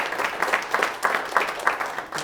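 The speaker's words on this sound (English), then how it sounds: "Let's first give a big round of applause to" Conference audience at a business AI event applauding, a dense patter of many hands clapping with rhythmic swells, steady and fairly close for a couple of seconds.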